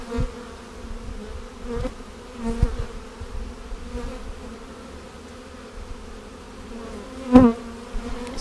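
A honey bee swarm drones in a steady, dense buzz that fills the whole stretch, with a few louder close passes and one sharp swell near the end.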